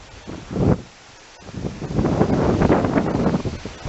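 Strong gusting wind buffets an outdoor microphone, a short rumbling burst followed by a longer, sustained roar of low turbulent noise, loud and close with no voices.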